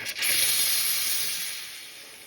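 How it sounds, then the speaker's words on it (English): A coffee machine's steam wand flushing into a rag, a steady close hiss that starts abruptly and slowly fades over a couple of seconds, with no talk. "flush the steam wand."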